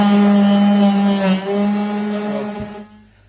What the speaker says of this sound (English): I've just started to do the sanding down of all the filler and stuff.